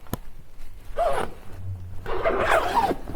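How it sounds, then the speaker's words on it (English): A zipper on the mosquito net of a 2021 Ford Nugget Plus pop-top camper van is pulled in two short, close rasping runs separated by a brief pause, with faint handling noise in between. "You have the 2 zippers."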